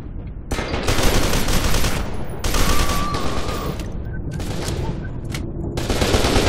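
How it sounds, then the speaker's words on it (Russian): Sustained bursts of automatic gunfire in the first-person shooter F.E.A.R. 2, loud and dense, with brief gaps between volleys and a faint tone in the middle. "Кто стреляет?"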